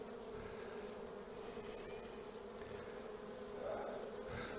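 Steady, dense buzzing of many honeybees from a colony being removed from a chimney, continuous and close, with a slight swell near the end.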